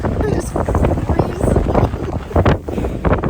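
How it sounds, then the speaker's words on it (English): Breezy wind buffets the microphone on a Charleston waterfront during a boating outing, a loud, continuous rumbling gust noise that fills the whole moment with no clear voice over it. "it's just a little breezy out here, so we'll do this quick"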